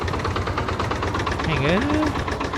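A tractor engine runs in Farming Simulator 22, a steady rumbling idle with a rhythmic knocking pulse, close and fairly loud, while a voice briefly sounds over it midway.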